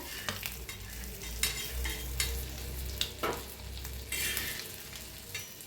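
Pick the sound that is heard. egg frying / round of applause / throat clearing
egg frying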